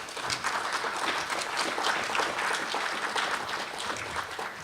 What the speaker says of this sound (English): I think we should give them a round of applause for that